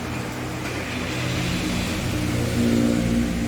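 A Citroen C4 engine runs steadily up close after being started, a continuous mid-low mechanical hum that swells slightly toward the end, heard alone without talk.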